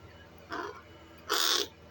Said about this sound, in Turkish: Kuzgun.